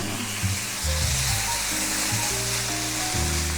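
Tomato and onions sizzle steadily in a hot pan, a loud continuous frying hiss with faint clinks of a utensil moving the food around.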